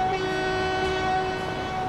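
A train in the Transport Fever video game runs steadily with a sustained horn-like tonal drone over rolling rail noise, loud and continuous, with no voices.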